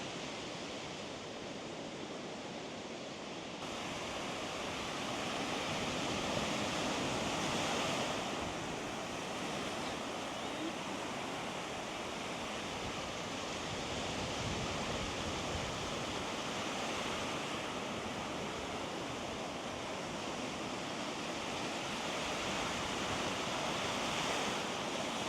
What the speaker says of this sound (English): ended our day at the beach gazing at the Atlantic Ocean, where Teena enjoyed dipping her feet